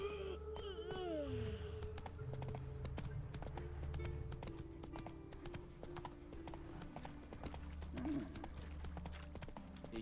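Horse hooves clip-clop steadily at a walking pace in The Witcher 3, a continuous rhythmic plodding under ambient game sound and music, with a brief whinny-like tone near the start.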